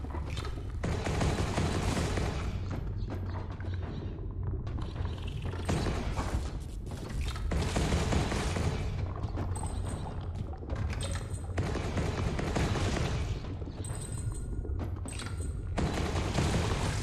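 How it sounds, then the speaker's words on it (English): Close range rockets firing in Ghost Song, a dense barrage of booming blasts and thuds that comes in heavy waves with brief gaps, loud and continuous across the stretch. "Close range rockets."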